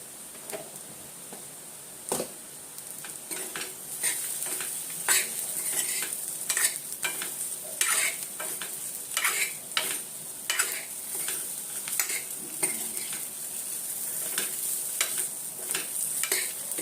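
Spoon stirring tempered idli in a sizzling pan of oil, with salt just added; steady frying hiss under a run of close scraping and clinking strokes, no voices.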